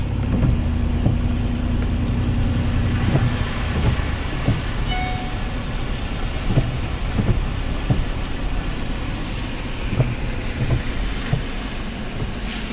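Steady rain falls in a dense hiss at Vicksburg Military Park, with scattered louder taps and a low rumble underneath, continuous throughout.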